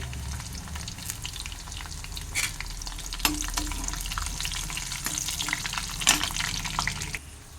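Cumin seeds and dried red chillies sizzle in hot oil with chana dal and mustard seeds, a steady close crackle with scattered pops and a few stirring scrapes, ending abruptly.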